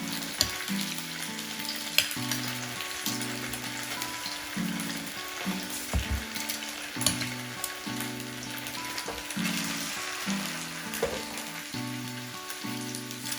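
Salmon fries skin side down in a hot pan on high heat, a steady close sizzle with crackling spits and occasional louder pops, no voices.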